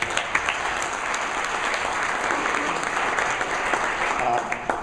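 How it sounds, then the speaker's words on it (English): An audience at a keynote address gives a sustained round of applause for the program committee, a steady mid-level wash of clapping with a few sharper claps standing out. "Let's give everybody a big applause"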